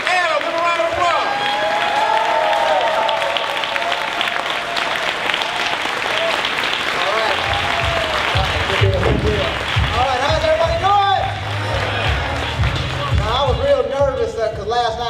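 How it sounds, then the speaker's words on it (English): An audience at a speaking event applauds, filling the room with steady, fairly loud clapping and crowd noise, while someone talks over it on a microphone through much of the clip. "Give him a round of applause."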